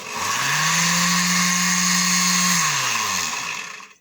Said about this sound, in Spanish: Lo único que tenemos que hacer para que funcione es una licuadora normal, entonces nada más la enchufamos a una corriente y vemos su funcionamiento